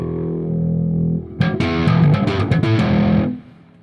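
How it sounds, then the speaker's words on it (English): Distorted electric guitar chords and riffs ring out loud and close after a low sustained tone, a short burst of strummed, heavily overdriven playing lasting about two seconds before fading. "Yeah, with distortion, man."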